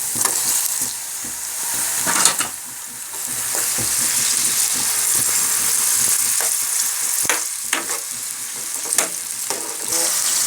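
Tomatoes and onions sizzle and fry steadily in a pan for a beef brain fry, with a bright continuous crackle punctuated by occasional stirring scrapes, close and without voices.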